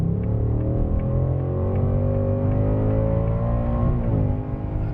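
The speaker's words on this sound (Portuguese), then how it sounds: "Uma aceleração absurda e um ronco que invade muito a cabine" A Ford Mustang Dark Horse V8 accelerates hard on a track, heard from inside the cabin as a loud, steadily rising engine roar with a brief dip near the end.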